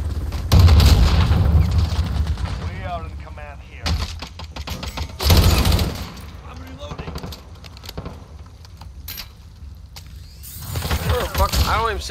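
Bursts of gunfire in Call of Duty Modern Warfare during a hardcore team deathmatch on the Crash map, with an LMG among the weapons. Loud shots come in clusters near the start, middle and end, with someone talking between them.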